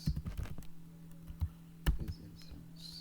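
Keystrokes on a computer keyboard while Python code is entered, coming as irregular close clicks and taps in quick bursts with short pauses, alone and with no speech.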